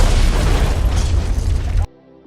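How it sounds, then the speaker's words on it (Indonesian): A close, heavy explosion in a war-torn city booms and rumbles for nearly two seconds, then cuts off abruptly into near silence. "Tiba-tiba terdengar kembali suara ledakan dan rentetan tembakan."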